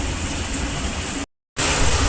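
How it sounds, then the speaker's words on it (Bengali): Heavy downpour drums on a tin roof with a dense, steady roar and strong hiss that fills the space. A brief total dropout cuts in midway before the roar resumes at full loudness, with no voices heard. "বাইরে আবার মুষলধারে বৃষ্টি পড়ছে"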